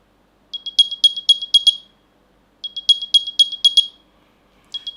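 An AirPods Pro 2 charging case plays its Find My alert: two loud bursts of rapid, high chirping beeps, about eight each, separated by a pause, then a third burst beginning. The sound is close and alone.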